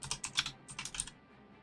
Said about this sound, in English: I'm typing that shit in Google.